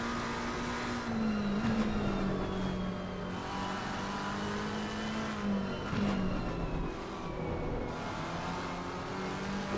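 Onboard sound from a Ferrari or McLaren race car at speed, a loud sustained engine drone whose pitch rises and dips with throttle and gear changes, steady and close throughout with no talk.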